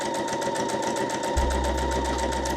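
A sewing machine runs steadily, stitching forward and then reversing over the same seam at the presser foot while a key fob is made, with a continuous close mechanical whir and no talk.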